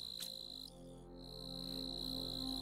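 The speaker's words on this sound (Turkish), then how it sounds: "Bu cırcır böceği ötüyor." Cricket chirping in the Planet Crafter video game: a steady, piercing high trill runs through the whole stretch, with a brief break near the middle, over a low ambient game hum.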